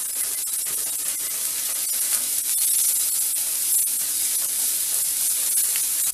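Sliced onions sautéing in hot oil with a pinch of salt for an egg curry, giving a steady, loud sizzling hiss that continues unbroken throughout.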